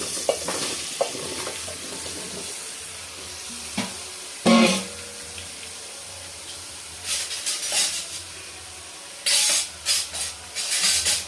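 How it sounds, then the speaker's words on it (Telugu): Pumpkin pieces sizzle in hot ghee, a low steady frying hiss broken by several loud bursts of stirring and scraping in the pan, close by and without speech. "ఆ నెయ్యి మగ్గిన తర్వాత మనం ఈ గుమ్మడికాయ ముక్కలు ఇలా వేసుకోవాలి."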